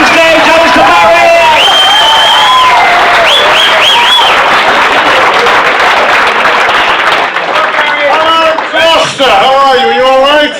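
Loud, dense applause from a room audience welcoming Alistair Barry to the stage at a rugby club event, with cheers and shouting voices layered over continuous clapping throughout.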